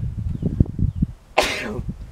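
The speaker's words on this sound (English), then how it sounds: "I'm going to sneeze." A single sharp, breathy sneeze bursts out close to the microphone after a moment of low, muffled vocal sounds.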